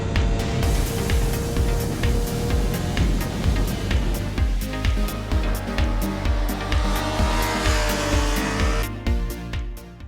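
A 2017 Yamaha YZF-R6 supersport motorcycle runs hard around Sydney Motorsport Park, its loud high-revving engine climbing and dropping through rapid gear changes, close by and continuous with no talk.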